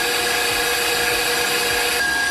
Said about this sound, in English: I'm gonna whisk it for like 5 minutes till it gets nice and peaked. You can turn it on really high speed.